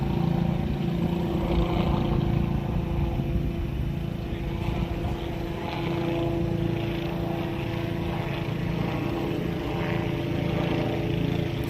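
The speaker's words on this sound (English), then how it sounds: "But the chopper's kind of hovering" A police helicopter hovering overhead in a city street at night, a continuous loud rotor and engine drone that holds steady throughout with no talking.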